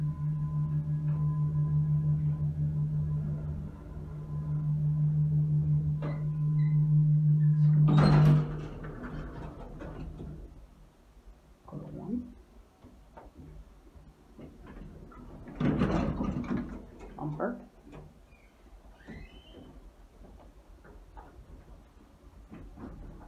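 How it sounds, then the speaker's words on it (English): A 1971 Otis Lexan hydraulic elevator in a municipal building: a steady motor hum runs and stops, then a door slides shut with a couple of thuds and clunks, followed by quieter rattles in a hushed space. "instant door close."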